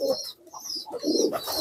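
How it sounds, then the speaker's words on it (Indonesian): Pigeons inside a coop give soft, close cooing calls in a brief, low, throaty burst, with no one speaking. "Nah, ini merpatinya masuk."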